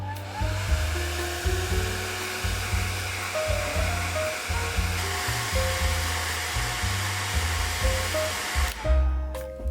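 A hair dryer blows steadily on a watercolor pencil drawing, a continuous whirring hiss with slight wavering pitch for nearly ten seconds, cutting off briefly near the end before restarting.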